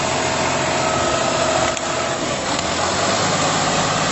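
A tractor engine roars steadily as a stuck tractor is driven out, a loud continuous drone with broadband rumble and no voices.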